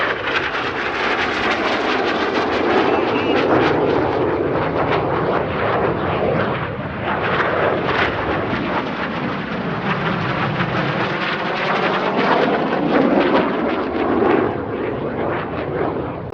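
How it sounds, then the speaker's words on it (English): Red Arrows jets flying a display at Sywell airshow, producing a loud continuous roar with sweeping whooshes as the aircraft pass overhead, under a faint commentary voice. "Each aircraft will conduct a 360-degree aileron roll after they cross"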